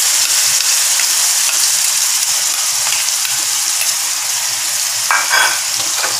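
Ground coconut paste hits a hot pan for a snake gourd kootu, producing a loud, continuous sizzle and frying hiss. Occasional scraping stir sounds are heard close up, with no talking.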